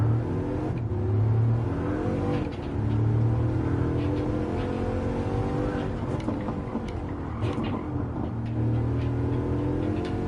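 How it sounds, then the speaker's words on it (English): A Shelby GT350R fitted with a Bugatti Chiron engine, driven at the Nürburgring in Gran Turismo 7, revs loud and close, holding a steady high-pitched roar broken by brief dips at the gear changes. "Engine sounds good, but I think the sound of the original engine is far better."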